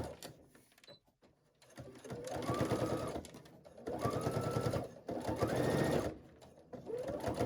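A sewing machine straight-stitches along the opening of a rounded zipper pouch in several close, rapid mechanical bursts separated by short pauses, with faint handling noise between runs.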